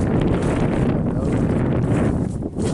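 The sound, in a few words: wind blowing in a garden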